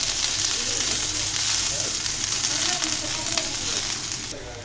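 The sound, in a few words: chopped onion frying in pan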